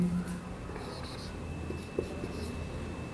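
A marker or chalk writing math on a board in a classroom lesson, giving faint, soft scratchy strokes against a quiet background with no talk.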